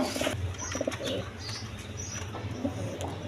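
Several pigeons at a pigeon farm give soft, intermittent coos and faint chirps, with a little wing rustling in a quiet coop setting.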